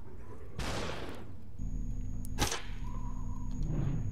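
Gunfire in the video game Superhot on Xbox One: two sharp shots a couple of seconds apart over a steady low game hum, no talk.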